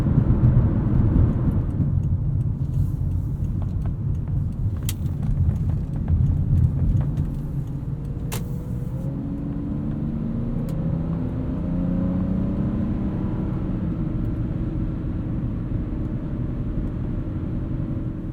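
Inside a 2003 Lexus GS 300 on the move, a steady low rumble from road and engine fills the cabin, with a faint rising engine tone as it accelerates.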